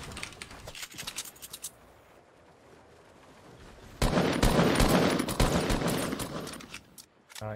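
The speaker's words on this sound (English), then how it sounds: "It's like I'm shooting twice" Gunfire in the video game Fortnite comes as sharp bursts of rapid shots, a scattered flurry at first, then a loud, dense volley in the second half, with no talk.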